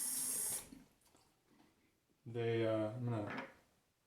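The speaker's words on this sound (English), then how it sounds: "My lather's a little bit dry, so I'm gonna add a little bit of water here." Water from a tap runs in two short bursts, a brief one at the start and a louder, fuller gush later, as water is added to dry shaving lather; quiet pauses fall between them.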